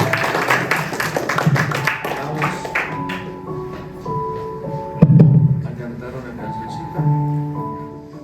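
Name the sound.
congregation applause in church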